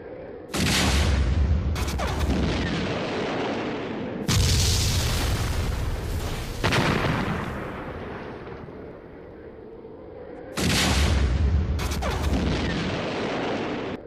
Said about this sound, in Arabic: بما أنه لا توجد أصوات حتى انفجار القنابل، لذلك سوف أضعها بالمؤثرات الصوتية